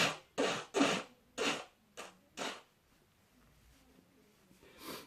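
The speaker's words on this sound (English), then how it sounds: "this is what happens after you blow your nose after you've been taking snuff" Several short, forceful nose blows after taking snuff, in quick succession, close and breathy, then a quiet pause and one more faint blow.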